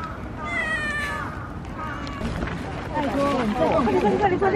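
Cats meow on a sunny spring street in Japan, several plaintive calls rising over crowd murmur while people talk nearby.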